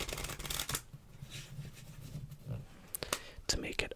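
Playing cards shuffled in several quick riffling bursts, close by, with soft rustling between them.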